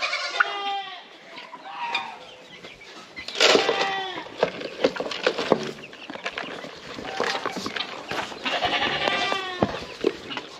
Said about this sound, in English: Let's give these goats here something to